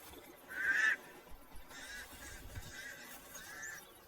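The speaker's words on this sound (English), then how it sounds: "The pied crows sound the alarm again." Harsh pied crow alarm calls ring out in a short loud burst, followed by a few fainter, scattered cries over a quiet outdoor background.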